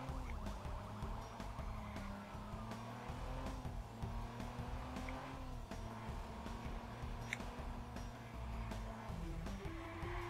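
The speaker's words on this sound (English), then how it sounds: "now we get a little cool car chase coming on" A car chase in Watch Dogs: an engine roars steadily while police sirens wail over it, with constant traffic rumble and brief knocks and bumps throughout.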